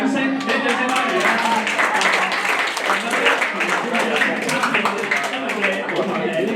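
An audience at a puppet show claps together in a dense, steady patter of applause, heard under a presenter's voice talking over it.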